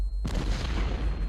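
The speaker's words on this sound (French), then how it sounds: "c'est l'artillerie française qui nous canonne par erreur" Heavy French artillery shelling in a First World War battle: after a brief quiet start, a sudden loud blast gives way to a dense, continuous rumble of booming fire.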